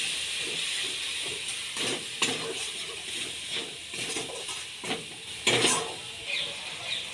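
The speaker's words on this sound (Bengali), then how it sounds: "1 চামচ লঙ্কার গুঁড়ো, 1 চামচ জিরে গুঁড়ো, 1 চামচ ধনে গুঁড়ো, আর অল্প পরিমাণে জল দিয়ে এটাকে কষিয়ে নেব" A paste of chili, cumin and coriander powder with a little water sizzles in a pan for a broccoli dish, giving a steady close hiss with brief louder spits and crackles throughout.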